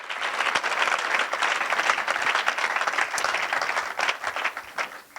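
A church congregation applauds loudly and continuously, dense clapping filling the room with a steady roar that tapers slightly at the end.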